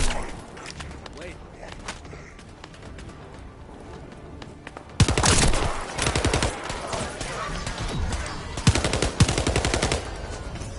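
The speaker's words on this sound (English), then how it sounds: "Operating assault turret." An assault turret in The First Descendant opens up with loud rapid automatic fire after a quieter stretch of clicks and scattered shots, sustained chattering bursts continuing to the end with some voice underneath.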